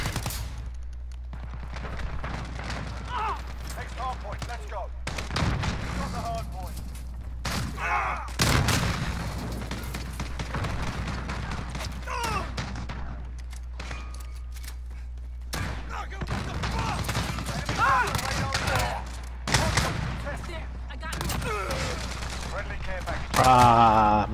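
Call of Duty gameplay full of gunfire and explosions, with rapid bursts of automatic fire, shotgun blasts and booms coming in loud clusters separated by brief lulls, and a player talking over parts of it.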